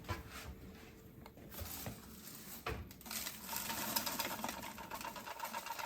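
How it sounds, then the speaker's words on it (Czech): ETA Master Aqua Pro robotic vacuum vacuuming and mopping at once on a floor, giving a steady whirring motor hum with brushing and scrubbing noise, close and continuous, with occasional knocks and a tonal whine throughout. "Takže teď vytírá a vysává zároveň."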